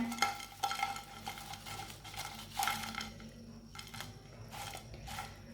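Crispy fried okra (bhindi) pieces scraped and set onto a plate with a series of close, light clinks and clatters in an irregular rhythm, louder early on and trailing off, with a low kitchen hum beneath.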